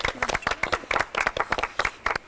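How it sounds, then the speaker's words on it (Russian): An audience claps for a birthday during an indoor reality show taping. The applause comes as short, sharp bursts of hand claps in an uneven rhythm, fairly close, with a faint murmur of crowd. "Аплодисментами поздравим ее."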